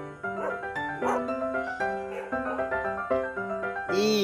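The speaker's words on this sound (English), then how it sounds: "D for dog." A dog barking sound in a children's phonics song, repeated short woofs in a steady rhythm over bright musical tones, fairly loud and close.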